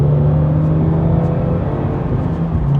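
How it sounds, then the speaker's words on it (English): A 2022 Subaru BRZ/GR86 fitted with an HKS Hi-Power SPEC-L exhaust revving, a loud continuous engine drone held at steady high RPM throughout, close to the exhaust. "Another nice part about this exhaust tone is it just really encourages you to rev the car out"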